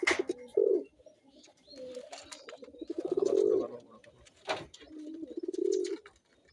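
Pigeons of mixed breeds kept in a loft give repeated low, throaty coos in several rolling bursts, fairly close, while a person speaks briefly over them.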